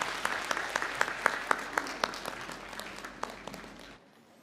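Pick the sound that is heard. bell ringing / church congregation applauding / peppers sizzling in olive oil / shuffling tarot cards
church congregation applauding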